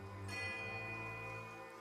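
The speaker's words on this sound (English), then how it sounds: "The tolling of a single bell joins the chorus of birdsong, then another." A single bell tolls in the Neketaka area of the video game Pillars of Eternity 2, a struck tone with long ringing overtones that sustain and slowly fade, heard alone at low volume.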